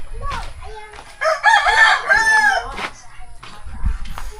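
Near and loud, a rooster gives one long crow, with a few lower clucks and brief murmurs around it.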